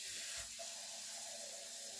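Tap water running into a sink to make homemade vanilla oat milk, a steady hissing stream that starts with a brief clunk and keeps flowing evenly for about two seconds.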